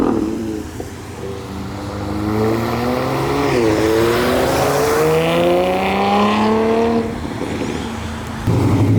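TVR sports car with a choppy-idling engine driving past on a wet track, loud and close, its revs rising and falling in a steady sweep with a rumbling exhaust, no voices over it.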